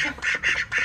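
Several ducks quack loudly and close at feeding time, three bursts of raspy calls in quick succession.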